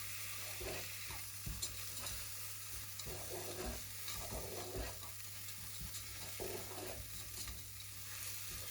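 Rice is stirred in a hot saucepan, the grains scraping and rustling against the pan over a steady low sizzle, close and continuous with no talking.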